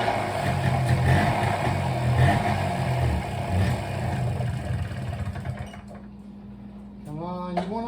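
Honda PA50ii moped engine revving hard at full throttle after sitting three years, a loud buzzing roar that fades toward the end, with a voice talking over it.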